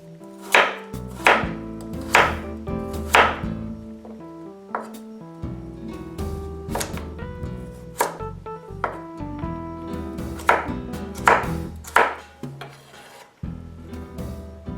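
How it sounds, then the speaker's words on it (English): A knife chops carrots into small cubes on a board, with crisp, close, irregular strikes repeating through the stretch, alone without talk. "I cut the carrots into small cubes."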